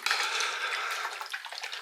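Close liquid sloshing as a bottle of Crimson Guitars Penetrating Guitar Finishing Oil is shaken, a brief continuous swishing burst.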